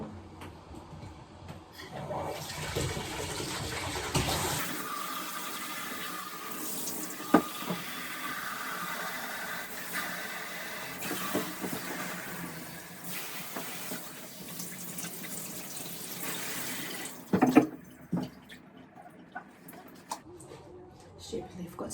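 Water pours steadily from a can or tap onto houseplants and a drenched wooden pot, a continuous splashing flow lasting most of the time, with brief voices heard faintly.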